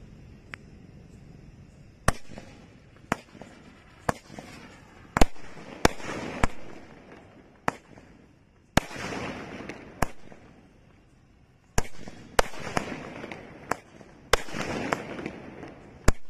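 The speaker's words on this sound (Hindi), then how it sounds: "चलिए इसको आग लगा के देखते हैं हमारा ये 12 शॉट कैसा निकलता।" Diwali 12-shot aerial firework cake fired outdoors, sending a series of sharp, loud bangs at irregular intervals over about sixteen seconds, each burst followed by crackling fizz and hiss, with no talking.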